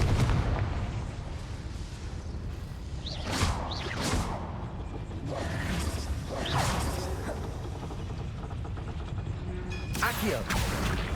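Confringo fire blast spell cast in Hogwarts Legacy, sharp explosive bursts with whooshing blasts recurring several times over a dense rumbling game soundscape.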